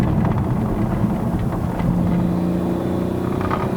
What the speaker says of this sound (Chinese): 这里还可以默默听到一点点那个 inline six 的声音啊